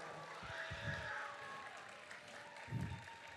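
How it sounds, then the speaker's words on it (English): A crowd applauds at a FIRST Robotics district competition in Gainesville, a faint, distant patter of clapping across a large venue, with low rumbling thumps and indistinct voices underneath. "let's give them a huge round of applause for making it so far"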